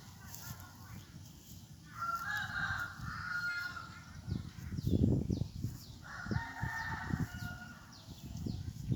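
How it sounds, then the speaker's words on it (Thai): Chickens call close by in rice fields, repeated harsh clucks and squawks rising and falling over a noisy outdoor background. "เนี่ยไก่ ใกล้ๆเลย"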